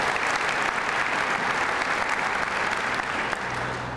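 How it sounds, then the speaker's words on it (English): A county government audience at a state of the county address breaks into a sustained round of applause, many hands clapping steadily and evenly before the sound begins to thin out at the end. "Give them a round of applause."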